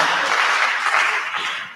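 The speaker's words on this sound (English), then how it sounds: "A round of applause for Onyango, please." A crowd at a mentorship event breaks into applause, a dense patter of many hands clapping together, fading slightly toward the end.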